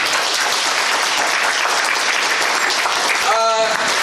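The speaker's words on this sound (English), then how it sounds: "Round of applause for our donators." A crowd applauds steadily and loudly for the whole stretch, with a brief voice cutting through near the end.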